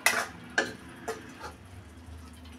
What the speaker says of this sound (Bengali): দিয়ে দিলাম টমেটো কাটা আর কাঁচামরিচ কাটা। সব কিছু ভালোভাবে কষিয়ে নিব